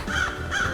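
Crows in the Paradise Killer game world give two harsh, close caws about half a second apart, loud and clear over a low ambient hum.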